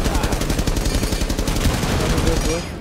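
Rapid gunfire in Rainbow Six Siege rattles steadily as a dense, continuous burst of shots lasting a few seconds, then cuts off abruptly.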